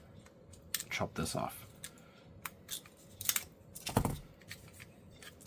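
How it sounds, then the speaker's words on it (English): Scissors snip through the thin plastic membrane inside a PS2 controller, giving several sharp, close cuts in an irregular rhythm, with a brief spoken word. "get our scissors out, and we're going to chop this"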